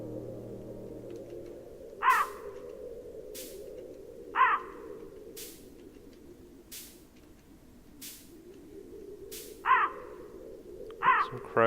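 Crows in the video game Qora give four separate harsh caw-like calls at wide intervals over a steady low ambient hum, with no talking.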